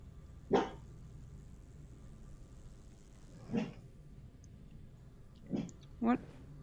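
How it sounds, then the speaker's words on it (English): A dog in the room barks four separate times, single sharp barks spaced a few seconds apart, over faint background noise while a Half-Life Alyx VR game is being played. "I'm sorry for my dog."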